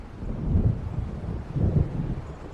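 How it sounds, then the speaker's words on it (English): Low, rolling thunder from a storm approaching over the water in the video game Alan Wake Remastered, heard as two deep swelling rumbles with wind and rain-like hiss, no voices. "It seems there's a storm coming."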